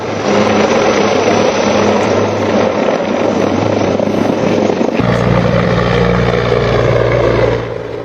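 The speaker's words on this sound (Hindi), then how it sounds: "हेलीकॉप्टर्स उनका सर्च ऑपरेशन कर रहे हैं पहाड़ियों में" Police helicopters fly over hills during a search operation in Jammu and Kashmir, their loud, steady rotor and engine drone filling the air without a break and shifting slightly in pitch midway, with no voices.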